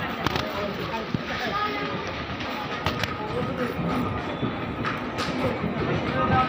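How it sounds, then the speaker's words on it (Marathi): A local train pulls into a station near Pune with a steady, loud rumble of rolling wheels and occasional sharp clanks and clatters. "तो फाइनली लोकल आ चुकी है।"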